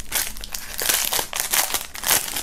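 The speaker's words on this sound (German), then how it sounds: "werden wir wie immer mal mit der Folie starten" Plastic film peeled and unwrapped from a music CD box set, a continuous close crinkling and crackling with irregular louder rustles throughout.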